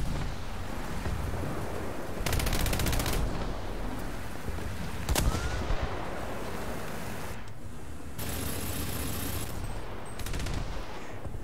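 Rapid bursts of 20mm Oerlikon cannon fire in War Thunder, several short strings of shots over a dense rumbling battle background, loud and close.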